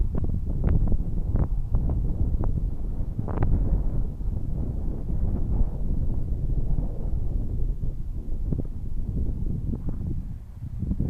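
Gusty wind buffets the microphone outdoors at an RC flying session with a Volantex Ranger 600mm plane, a loud rumbling roar with sharper bursts of wind hitting early on.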